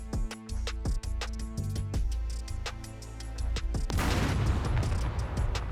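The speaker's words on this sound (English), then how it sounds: "so let's just throw a grenade at it" A frag grenade in the SCUM video game bursts against a base turret with a loud, dense explosion about two-thirds through, set over steady game music.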